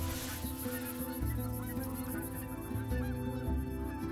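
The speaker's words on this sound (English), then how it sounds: "I hear him honking." Geese honk in the Call of the Wild hunting video game, layered over steady harmonic game music or ambience, with repeated calls across the moment at moderate loudness.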